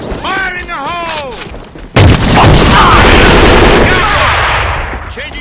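A grenade blast and gunfire in the shooter A.V.A: a sudden loud explosion with a long roaring tail of rapid shots and debris, following a shouted warning and radio-style voice chatter.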